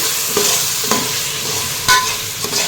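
Green chillies sautéing in a pan for chicken biryani: a steady loud sizzle with scraping stirs of a spoon at intervals, close and without talk.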